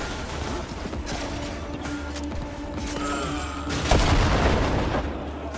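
Gunfire and booming impacts in the video game Cyberpunk 2077, scattered shots over a busy game soundscape with a heavier blast near the end, moderately loud.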